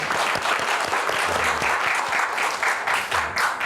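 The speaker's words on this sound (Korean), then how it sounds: "박수 한번 드릴까요?" Audience at a Korean social welfare forum on climate disasters breaking into loud, sustained applause, dense and even throughout with crowd murmur underneath.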